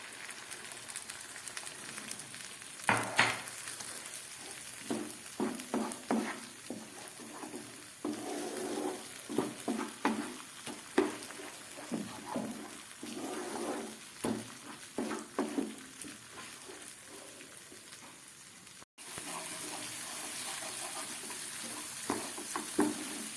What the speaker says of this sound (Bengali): কাজু কিশমিশ লঙ্কা দেবার পরে মশলাটা আরও অনেকক্ষণ কষিয়ে নিলাম